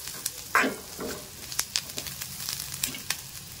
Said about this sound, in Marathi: ते थोडंसं तेलामध्ये फ्राय करून घ्यायचं